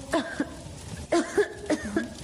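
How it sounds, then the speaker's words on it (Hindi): Three short bursts of coughing, each a quick pair of harsh coughs, close by and clear, spaced about half a second apart. "तुम्हें तो बहुत खांसी हो रही है।"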